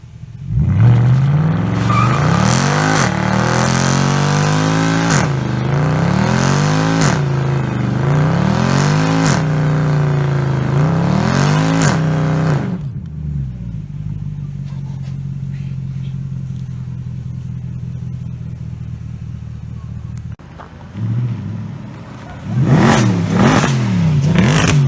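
A Lamborghini Aventador revs hard on a Paris street, loud rising engine pulls repeating through the gears, then a steadier idle-like drone before another burst of revving.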